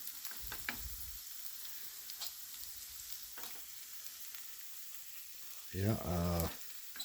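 Hamburgers fry in a frying pan with a low steady sizzle, broken by scraping and clinks as they are moved around, and a brief spoken word.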